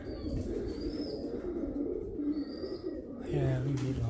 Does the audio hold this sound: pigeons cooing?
yes